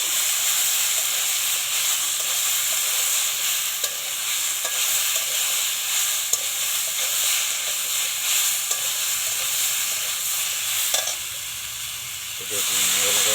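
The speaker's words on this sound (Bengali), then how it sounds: "এবার মশলা ধোয়া জলটা দিয়ে একটু নেড়ে চেড়ে নিচ্ছে।" Spices being stirred in a pan with the water used to rinse them, plus mustard oil, for a pumpkin-greens chorchori: a steady broad hiss and sizzle with faint scraping strokes that eases briefly near the end.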